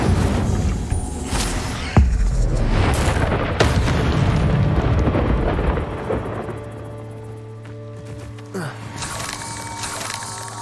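Incendio fire spell cast in Hogwarts Legacy: loud booming bursts of flame with crackling rumble, two sharp impacts early on, then a fading roar and a lighter hum as the effect dies away.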